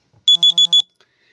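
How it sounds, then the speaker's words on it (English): A 6:15 alarm sounds with four short, loud, high electronic beeps in quick even succession, then stops, with no talking over it. "my 6:15 alarm is about to go off"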